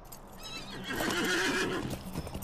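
A video game horse in LOTRO whinnies loudly over soft clip-clopping hooves, a short neigh rising and falling in a quiet setting.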